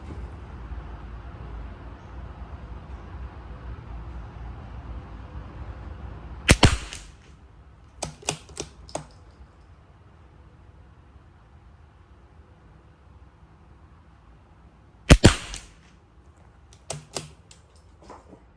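CZ-457 rifle firing at a 50-metre range: two sharp, loud shots, each followed by a short burst of clattering rebounds and echoes, with a steady low outdoor rumble between them and no talking.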